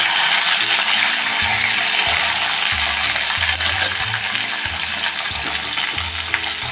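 Bottle gourd pieces sauté in a hot pan for dal and gourd amti, a loud steady frying sizzle up close with regular scraping stirs every second or so.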